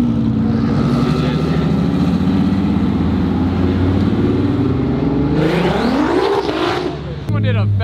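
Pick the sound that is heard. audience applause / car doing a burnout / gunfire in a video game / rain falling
car doing a burnout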